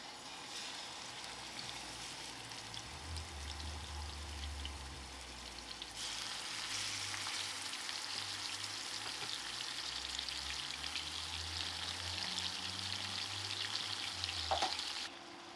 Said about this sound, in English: We're just trying to get a nice sear on this.